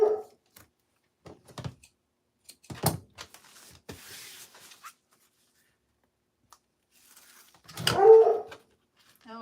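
A ten-year-old excitable dog gives a few short barks and whines indoors, a loud close burst near the end after scattered thumps and door-like knocks, with no talking.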